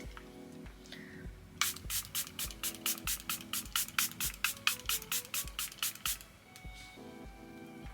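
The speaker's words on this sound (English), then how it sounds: "I'm gonna take my Airbrush Flawless Setting Spray by Charlotte Tilbury, and I'm just gonna spray this." A rapid series of short, soft pumps of Charlotte Tilbury Airbrush Flawless setting spray, about twenty quick puffs in a steady rhythm, close and fairly quiet, with faint rustling around them.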